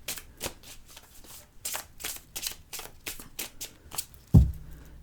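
A deck of oracle cards being shuffled by hand, a run of quick papery riffles and flicks in steady bursts, close and fairly quiet, ending with a soft thump as the deck is set down.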